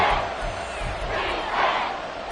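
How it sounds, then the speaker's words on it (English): A football crowd roars at Arrowhead Stadium late in a Bears at Chiefs game, a dense, sustained roar that swells and surges throughout. "The Arrowhead crowd in full roar."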